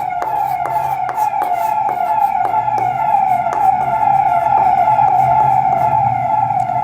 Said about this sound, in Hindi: 12 बजे आपको शायद एम्बुलेंस का साउंड सुनाई दे रहा होगा